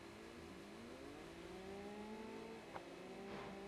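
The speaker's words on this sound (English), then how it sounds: "Sounds like they're working their motors pretty hard just to get moving though" Race car engines in a virtual racing video game drone and rev continuously, several motors layered in steady, sliding pitches that strain under load, with a short sharp click near the end.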